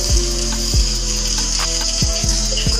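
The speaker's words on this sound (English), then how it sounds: "Fry the noodles to set their shape." Instant noodles frying in hot oil hiss with a steady bright sizzle, broken by a few dull knocks as they are moved around in the pan, close and loud with no talking.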